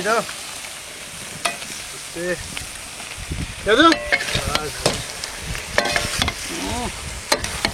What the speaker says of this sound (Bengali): এখন আমি দিয়ে দেবো কেটে রাখা আলু আর কেটে রাখা আম